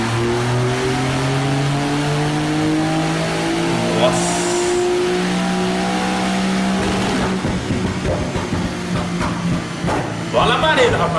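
A Porsche sports car engine revs and accelerates, its pitch climbing in long sweeping rises, loud and close, with a brief exclamation from a voice.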